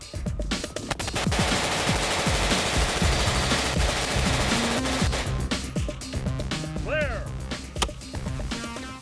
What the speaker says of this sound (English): the Stoner is no trouble for a Navy SEAL to fire from the shoulder all day long